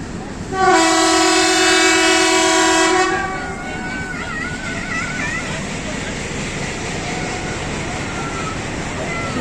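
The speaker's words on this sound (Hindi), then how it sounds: "एक मिनट स्टॉप के बाद विसल हो गई है PH20 की।" A Pakistan Railways passenger train sounds a loud, sustained whistle for about two seconds as it departs a station after a one-minute stop, followed by the rumble of the moving train and faint voices.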